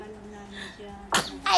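A person talks briefly, then a sharp sneeze bursts out, followed quickly by a short exclamation.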